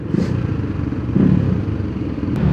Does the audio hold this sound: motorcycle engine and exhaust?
yes